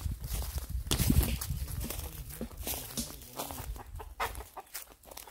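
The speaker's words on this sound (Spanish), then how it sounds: "Sí, una gallina." A hen clucks on a rural Cuban farm where corojo palm nuts are being pounded for oil, soft intermittent clucks amid outdoor ambience and scattered thumps.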